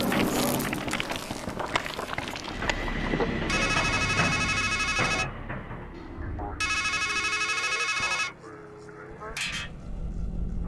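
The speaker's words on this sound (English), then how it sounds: "Then a phone rings" A telephone rings twice in the video game Strangeland, each long electronic ring burst standing out over a busy ambient game soundtrack, with a short gap between rings and a brief final chirp.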